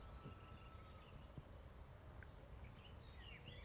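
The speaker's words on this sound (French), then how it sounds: "Comme là j'ai les grillons" Crickets chirp on a Provence outing, a faint, steady high-pitched trill running continuously over quiet outdoor ambience with a few soft distant bird notes.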